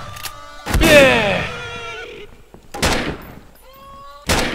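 Several sharp gunshots from the horror video game Grey ring out in separate bursts with echoing tails, separated by short gaps and mixed with other game sounds.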